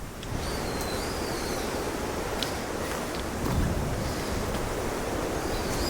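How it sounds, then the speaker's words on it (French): Very strong wind gusts on a mysterious Japanese island, a loud continuous roar and rush of air buffeting the microphone, steady with faint whistling on top. "il y a le vent qui est ultra fort qui pousse"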